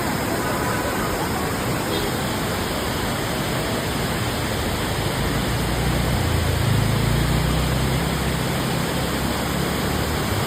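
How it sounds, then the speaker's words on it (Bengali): A small waterfall beside the mountain road from Siliguri to Darjeeling gives a loud, unbroken roar of rushing water that holds steady throughout, with a faint low rumble underneath. "দেখো কি সুন্দর একটা ঝর্ণা রয়েছে"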